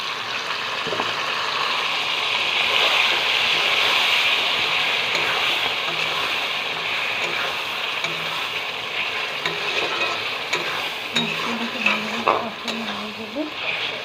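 Potatoes and spice masala fry in a pan with a loud, continuous hiss and sizzle, and occasional scraping stirs come through near the end.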